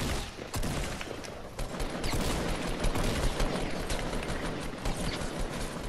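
A video game shootout rattles with rapid bursts of gunfire, dense crackling volleys at moderate distance that continue without pause across the whole stretch, with no voices over them.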